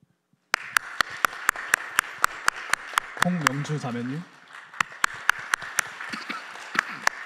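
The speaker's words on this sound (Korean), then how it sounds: "저희는 박수로 환영하면 됩니다" A church congregation claps to welcome new members at a young adults' Friday worship service, a steady rhythmic beat of single claps continuing throughout, while someone speaks briefly in the middle.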